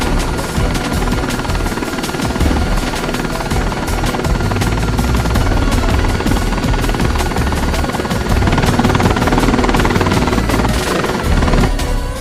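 A helicopter in the Los Angeles Crimes Online video game drones loudly and steadily, its rotor producing a rapid, even chop that continues for the whole stretch without any speech.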